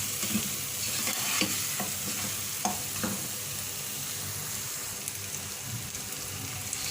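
Spices are stirred into mutton in a pot, a steady close sizzle running throughout with soft scraping strokes and occasional clicks of the spoon, and no one talking.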